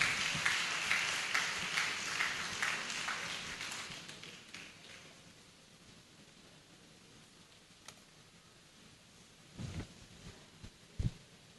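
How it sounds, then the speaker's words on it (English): Audience applause at a Catholic archdiocesan education summit in Ibadan, a dense patter of clapping that fades over the first few seconds, then a near-silent hall with a couple of isolated taps. "let's give her an applause once more"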